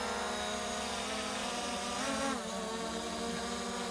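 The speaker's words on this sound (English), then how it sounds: "This drone is really, really easy to fly. And I can turn it like this." A Ruko F11GIM2 drone hovers and turns, its rotors giving a steady high-pitched whine with layered tones that bend and dip midway through the turn, close and continuous with no talking.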